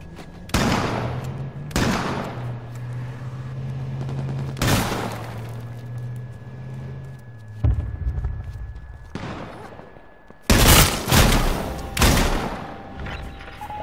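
Several sharp, loud bursts of video game gunfire ring out in uneven volleys, with booming impacts over a low steady hum.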